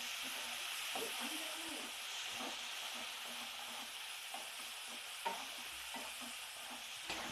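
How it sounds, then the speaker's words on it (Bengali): Spice paste stir-fried in hot oil, a steady broad sizzle with occasional scraping strokes of a spatula, close and continuous with no talking. "মশলাটাকে এবার ভালো করে কষে নেব।"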